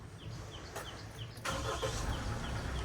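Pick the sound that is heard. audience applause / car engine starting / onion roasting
car engine starting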